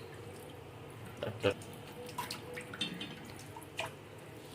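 Basak leaves are rinsed under a running tap a little at a time, giving faint, scattered drips and small splashes at close range beneath a person speaking.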